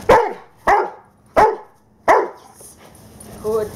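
A dog barks four times in a steady rhythm, close and loud, followed by a soft whine.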